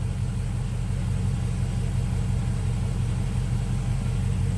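A car engine runs at a steady idle, a low, even rumble that holds without change, with no voices.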